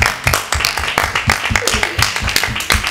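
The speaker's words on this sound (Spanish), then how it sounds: "un gran aplauso" Audience at a Spanish-language show in Marbella breaks into a burst of applause, dense overlapping hand claps rolling on steadily throughout, close and fairly loud with faint voices mixed in.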